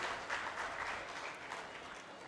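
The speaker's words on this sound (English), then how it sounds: "So a big round of applause to all the senior Brahmos came from multiple Brahma Samajas as well." Quiet, distant applause from a crowd at a Brahmo Samaj conference in Hyderabad, a continuous even patter of many hands clapping with no voices heard.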